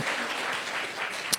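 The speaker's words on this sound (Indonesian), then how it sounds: "Tepuk tangan untuk Tuhan kita." A church congregation claps during a Sunday sermon, a soft, even patter of hands at moderate distance, with one sharper clap standing out near the end.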